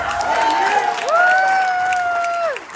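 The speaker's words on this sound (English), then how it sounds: "Thank you for clapping." Wedding guests applaud during the bride's brother's reception speech: a steady wash of clapping lasting a few seconds, topped by a long, rising, sustained whoop or whistle-like cheer from someone in the crowd.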